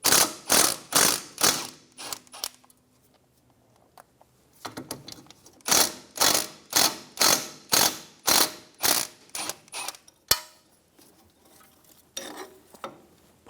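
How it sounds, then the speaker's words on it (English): A hand ratchet works the 10mm brake line bracket bolts on an Infiniti G35 front knuckle: loud, close bursts of evenly spaced clicking strokes in two runs separated by a quiet pause, with a sharp metallic tap afterwards. "Remove the 2 10mm bolts for the brake line bracket."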